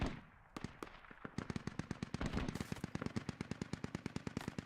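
Sustained automatic gunfire in a military video game as Russian forces return fire, rapid bursts of shots following a brief pause, loud and continuous with no talking.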